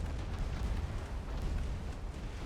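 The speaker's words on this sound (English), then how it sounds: "just take that torpedo right on the midsection" A torpedo slams into a warship's midsection in the naval game Ultimate Admiral Dreadnoughts, a heavy, rolling explosion with deep rumble that holds loud and steady for about two and a half seconds, with no talking.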